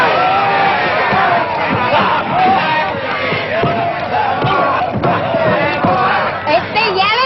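Rowdy crowd yelling and whooping around a fistfight in an old Western, a dense continuous wall of shouting voices and cheers, loud and close throughout.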